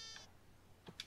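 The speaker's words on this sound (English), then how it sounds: "Is that a baby sheep?" Faint, high wavering bleats from a baby sheep in Minecraft, one short call at the start and two more close together near the end, soft and thin over quiet background.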